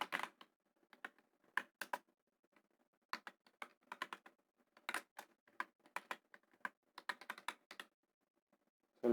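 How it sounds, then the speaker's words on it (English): Keys on a computer keyboard clatter in quick irregular bursts with short pauses, close and fairly quiet, entered while writing Python code comments, with no voices. "anything you type in between over here will be neglected by Python"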